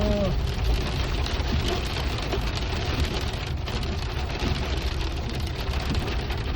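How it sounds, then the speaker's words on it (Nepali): Hail at Zuluk in Sikkim drums steadily on surfaces nearby as a dense, even patter that holds without pause throughout. "जलुकमा चाहिँ असिना यसरी पऱ्यो आज."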